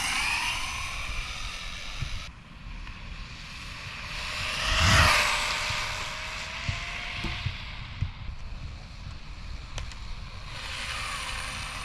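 A Mojave GROM RC car's electric motor whines near full throttle on a 3S battery, a faint high pitched tone that swells as the car nears and passes around the midpoint, then fades back, with faint clicks and rustles around it.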